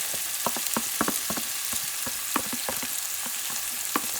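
Garlic frying in a pan while being stirred, with a steady sizzle broken by irregular scraping and clicking strokes of the utensil, close and moderately loud.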